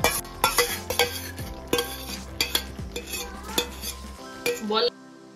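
Cauliflower florets tossed and stirred into a sizzling cashew-raisin spice paste in a pan, a spoon scraping and clattering against the metal in repeated close strokes over a steady fry, then stopping abruptly.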